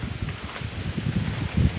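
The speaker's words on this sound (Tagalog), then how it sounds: "Lakas pa yung hangin" Strong wind gusting through plants in a garden with banana and lemongrass, a close rough rushing and rustling with buffeting microphone noise, no voices.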